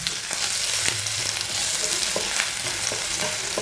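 Ginger and garlic fry in oil in a pan for a sardine pickle, a constant loud sizzling hiss with occasional stirring scrapes and pops.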